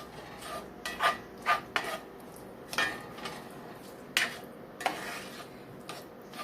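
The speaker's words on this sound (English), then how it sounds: "Mix that all up in the oil." Corn from a 12-ounce bag is stirred in oil in a pan, with scattered scrapes and light clinks of a utensil against the pan coming at uneven intervals, fairly quiet and close.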